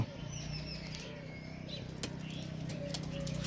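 Pigeons cooing softly under a steady low hum, with scattered flutters and faint chirps throughout.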